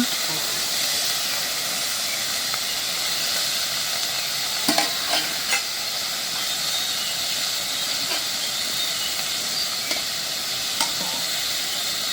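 Steady sizzling hiss of food frying in oil, with occasional scrapes and clinks of a spoon stirring the pan.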